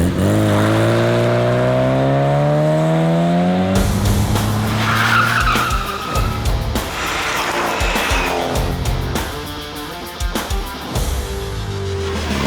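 A classic Mini drives hard with its tyres squealing and skidding. The engine drones loudly at first, then gives way to a long stretch of scrabbling tyre noise and sharp knocks, with no talk.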